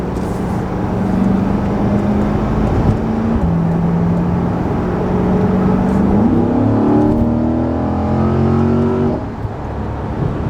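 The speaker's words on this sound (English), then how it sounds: "The exhaust note on the back, it crackles." A 2021 Corvette Stingray with stock exhaust accelerates hard, its engine note holding steady then climbing in pitch through the gears, loud and close, with no talking.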